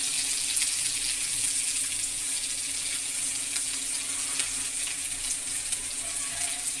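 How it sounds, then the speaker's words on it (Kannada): Garlic fries in a pan for sambar, a continuous, even hiss of hot oil heard up close without pause. "ಮತ್ತೊಂದು ಸ್ವಲ್ಪ ಬೆಳ್ಳುಳ್ಳಿ ಬಿಸಿಟ್ಕೊಂಡಿರೋಂಥದ್ದು ಇಷ್ಟು ಚೆನ್ನಾಗಿ ಫ್ರೈ ಮಾಡ್ತಾಯಿದ್ದೀನಿ"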